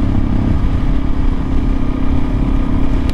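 A Kawasaki KLX 400 motorcycle on a ride, a constant loud engine drone with rushing noise, steady and close throughout without any voices.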